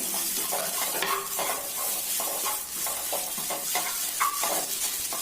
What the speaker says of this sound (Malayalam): പിന്നെ ഇതിലോട്ട് കറിവേപ്പിലയും നേരത്തെ ഗ്രേറ്റ് ചെയ്ത് വെച്ചേക്കുന്ന ഉരുളക്കിഴങ്ങും കൂടെ ഇട്ടുകൊടുക്കാം.